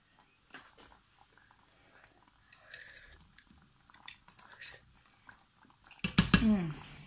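Someone tastes food topped with a homemade Slimming World style barbecue sauce, with soft, close chewing and mouth sounds that build near the end into a louder burst.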